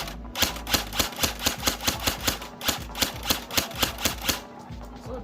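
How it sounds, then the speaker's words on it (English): An ICS L86 airsoft gun fires BBs downrange in a fast, even string of about sixteen sharp, close-up cracks over four seconds, with a mechanical clack to each shot. "I'm just going to kind of shoot some BBs downrange and let you guys see it"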